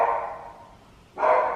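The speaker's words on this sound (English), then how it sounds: "He's been barking for like 30 minutes straight" Agitated dog indoors barking two short, mid-pitched barks separated by a pause, moderately loud and close, with nothing else audible.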